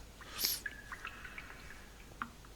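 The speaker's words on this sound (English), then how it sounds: "I can hear water dripping." Water drips in a Minecraft cave in an FTB modpack, a few soft, sparse plinks spaced irregularly against a quiet hiss of cave ambience, with one brighter splash near the start.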